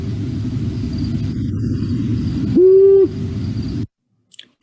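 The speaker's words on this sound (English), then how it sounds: "So it's the long-eared owl has long pauses between the whoos." A long-eared owl gives a single low, drawn-out hoot, clear and close, over a constant low rumble that cuts off shortly after.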